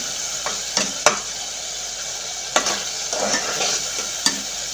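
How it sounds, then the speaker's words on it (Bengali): Spice masala frying in a pan for a Bangladeshi hotel-style chickpea dal bhuna, a constant close sizzle broken by several sharp scraping stirs of the spoon against the pan. "আমার মশলাটা কষানো হয়ে গেছে"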